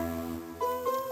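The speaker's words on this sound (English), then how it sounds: "We have a chiff melody, which is an omnisphere patch" A plucky, kalimba-like chiff melody from an Omnisphere synth patch, played alone: a few bright, close tonal notes with soft attacks ringing over a sustained lower layer, without any talk.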